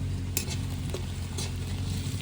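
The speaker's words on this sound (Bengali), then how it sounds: "লঙ্কা পেঁয়াজটা ভাজা হয়ে গেছে কাঁচা লঙ্কাটা দিয়ে দেবো" Chopped onion and green chili frying in a pan with whole garam masala, dry chili and bay leaf, stirred with a utensil: steady close sizzle with a few clinks and scrapes, no talking.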